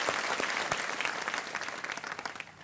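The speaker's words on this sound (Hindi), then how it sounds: "तालियों के साथ अनीता जी का भी अभिनंदन।" A studio audience on the KBC quiz show claps in a brief, dense burst of applause that fades slightly toward the end.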